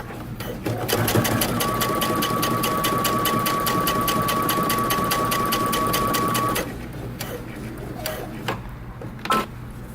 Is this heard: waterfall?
no